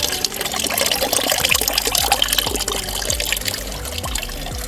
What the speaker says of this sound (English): the liquid fertilizer is dripping out of this cow manure